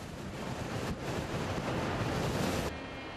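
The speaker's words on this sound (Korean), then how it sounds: "(7년) 경력의 김영식 기사에게 바닷바람이 먼저 아는 체를 한다" Sea wind gusts around a shipyard gantry crane with a cab about 30 m up, a broad roaring rush that swells and briefly dips before easing off near the end.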